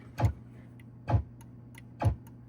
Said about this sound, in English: I can hear the micro switch clicking.